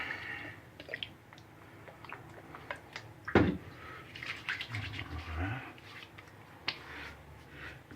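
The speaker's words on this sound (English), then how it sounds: "Witch hazel splash for our cleanup pass." Witch hazel splashed onto the face after shaving: a run of soft wet slaps and pats, with one sharp louder smack in the middle and quieter dabs around it.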